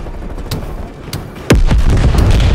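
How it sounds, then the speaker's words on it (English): Heavy booming blasts from a napalm strike in Call of Duty Black Ops Cold War, with scattered gunfire cracks leading into a loud, close explosion that rolls on with a sustained rumble. "Deploy napalm strike on my grid."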